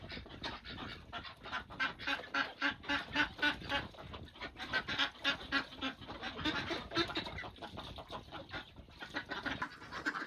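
Geese on a farm honking loudly and repeatedly in a rhythmic, overlapping chorus, close and insistent, with other fowl calling among them.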